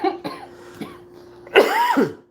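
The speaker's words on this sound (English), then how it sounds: "need to quit coughing." Several harsh coughs close to the microphone, a few short ones followed by a louder, longer fit.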